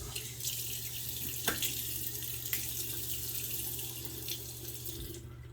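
Tap running steadily into a sink for a cold water rinse after shaving, a soft continuous hiss and trickle with a couple of faint clinks.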